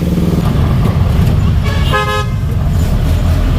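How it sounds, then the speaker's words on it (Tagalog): Heavy night traffic on Quiapo bridge in Manila, with motorcycles squeezing through, makes a loud, steady rumble of engines close by. A car horn toots once, clearly, above it. "Ako, grabe traffic. Daming mga sumisingit na motor."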